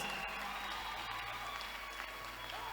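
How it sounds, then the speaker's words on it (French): An audience at a church gathering claps steadily, a dense patter of hands that is faint and distant, with no other sound over it. "If you want to clap, be generous."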